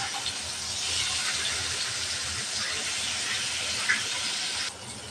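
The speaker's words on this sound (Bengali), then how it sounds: "তেল গরম হয়ে গেছে, দিয়ে দেবো মাছ" Fish dropped into hot mustard oil, a loud steady hissing sizzle close by for several seconds, easing slightly at the end, no talk.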